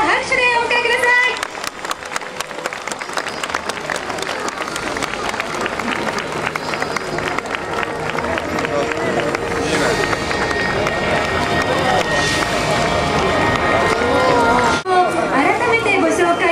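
Large audience applauding and chattering loudly to welcome Nadeshiko Japan players at a homecoming event, a dense sustained wash of clapping and crowd noise lasting throughout.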